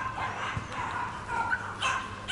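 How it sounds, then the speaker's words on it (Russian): Several dogs bark and yip at a moderate distance in a few scattered bursts over a steady background. "Собаки там лают."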